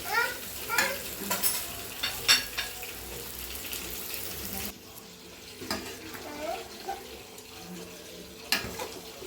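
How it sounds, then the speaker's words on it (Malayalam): Chicken curry sizzles in a pan while a utensil scrapes and stirs in irregular strokes, with occasional sharper clinks against the pot. "നന്നായി ഇളക്കി മിക്സ് ചെയ്യുന്നുണ്ട്"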